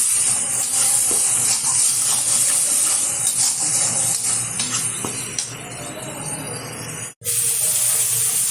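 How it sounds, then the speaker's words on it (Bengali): A spice paste of ginger, onion, garlic, cumin and chili fries in a pan, giving a loud continuous sizzle and hiss with a few stirring scrapes and a brief break near the end. "ভালোভাবে মশলাটা কষিয়ে নেব।"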